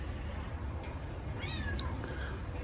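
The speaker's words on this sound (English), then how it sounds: "every now and again you might hear my cat meow" A pet cat meows once, fairly close and clear, over a steady low background hum with no one talking.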